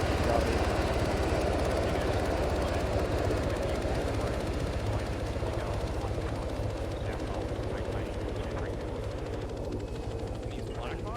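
A Blackhawk helicopter in Arma 3 drones steadily with a rhythmic rotor chop, continuous and fairly loud throughout, with speech over it.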